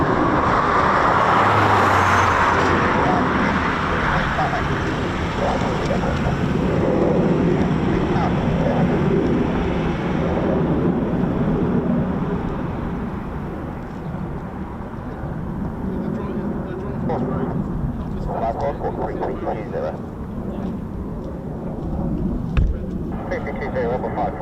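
Eurofighter Typhoon FGR4 jets roar past at an RAF station, a loud broad rumbling roar that gradually fades toward the end, with people talking over it.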